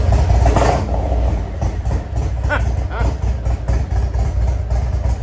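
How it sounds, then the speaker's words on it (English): Bagger motorcycle fitted with new loud, deep-tone aftermarket pipes, throttle whacked: a heavy low exhaust rumble with throttle pulses rising and falling throughout, loud and close. "Let me whack the throttle."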